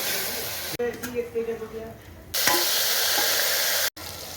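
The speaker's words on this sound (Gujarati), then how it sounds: "તેલ આપણું ગરમ થઈ ગયું છે, હવે આપણે એમાં નાખશું જીરું, હિંગ, લીમડાના પાન" Cumin, asafoetida and curry leaves sizzling as they hit hot oil: a sharp, steady hiss that bursts in after a quieter stretch of clatter and faint voice-like sounds.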